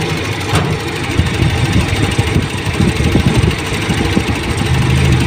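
A Toyota Revo diesel engine idles steadily nearby after a cold start, with a low, even rumble and rattly chatter that holds constant throughout.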